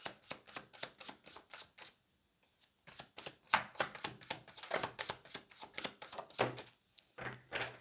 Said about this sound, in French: je vais tirer maintenant les cartes